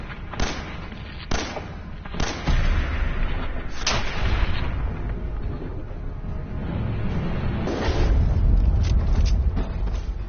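Heavy gunfire aimed at a savage deathclaw in a video game, a burst of loud booming shots with sharp onsets over a dense, rumbling battle din.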